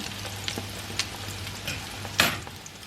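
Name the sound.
food frying in pan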